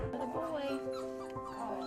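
Nine rescued puppies whimper and yip in high, overlapping cries that carry on without a break, with a person talking quietly underneath.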